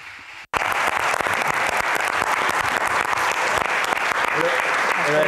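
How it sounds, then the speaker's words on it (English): Loud, sustained audience applause fills a press conference for a 2018 film, starting abruptly after a brief silence and continuing densely with a few faint voices mixed in. "Let's give her a round of applause."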